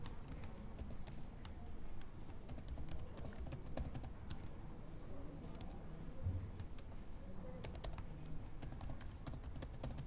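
Steady rapid clicking of fingers typing on a computer keyboard while entering an email ID and password, a continuous run of light keystrokes close by with no talk.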